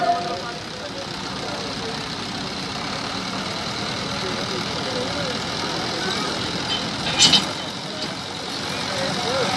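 A heavy tractor engine idles steadily at a tractor tug-of-war contest, with a low, constant rumble throughout, and a brief clatter rises near the end.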